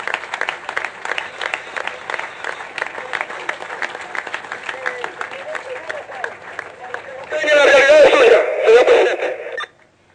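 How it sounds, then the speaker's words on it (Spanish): Crowd applause for machine operators at the groundbreaking of a new national steelworks, a dense patter of clapping under a loud speaking voice, then swelling into fuller cheering before cutting off. "Vamos a darle un aplauso a los operadores de las máquinas."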